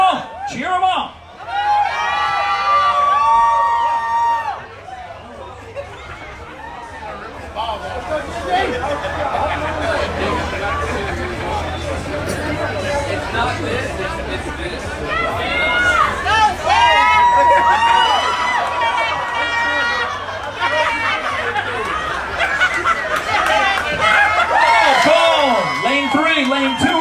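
A lively crowd cheers, whoops and shouts encouragement to contestants racing in a diaper changing contest, energetic chatter and yelling filling the space throughout, with an announcer's voice cutting in.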